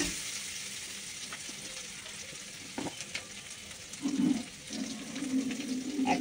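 Grated ginger frying in a kadai pan gives a steady, soft sizzle throughout, with a few louder bubbling spurts toward the end.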